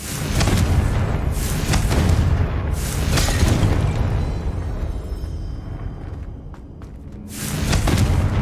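Confringo fire spell explosions from Hogwarts Legacy, a run of loud booming blasts with rumbling tails, strongest at the start and middle, dipping briefly near the end before another burst.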